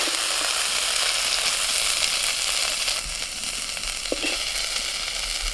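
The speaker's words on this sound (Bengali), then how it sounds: "একটা তেজপাতা আর একটা শুকনো লঙ্কা ফোড়নে দিচ্ছি।" Bay leaf and a dried red chilli sizzle in hot oil for tempering, a loud, steady close-up crackle throughout, with a few faint clinks of a utensil near the end.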